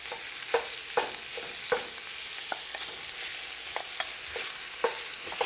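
Chopped meat sizzles steadily in a hot pan while a spoon stirs and scrapes it, giving sharp intermittent clacks every half second or so over a continuous close frying hiss, with no talking.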